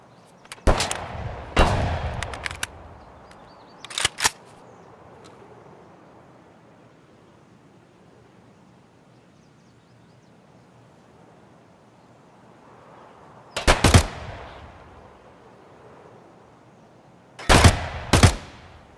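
Gunfire in Escape From Tarkov comes in several loud bursts of rapid shots, separated by long quiet stretches and ending with a final close burst.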